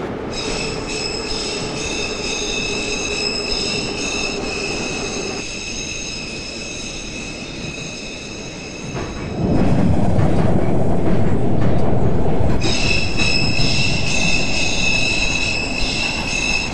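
Moscow metro train in the Trainz 12 game running on the Zamoskvoretskaya line: steady wheel squeal with high whining tones over a rumbling rail roar, the rumble growing louder partway through, close and continuous with no talk.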